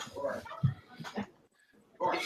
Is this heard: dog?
yes